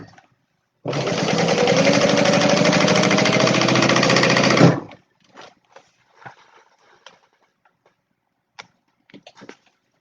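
A sewing machine top stitching a seam on a Stella Weekender bag: a loud, continuous close-up mechanical whir for about four seconds, then stopping, followed by faint handling clicks.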